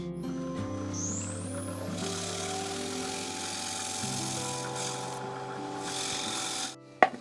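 Gritty finish is rubbed into a piece of turned wood on a spinning lathe, a steady scraping rasp over the humming motor drone, ending with a sharp knock.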